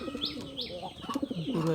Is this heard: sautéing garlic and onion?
no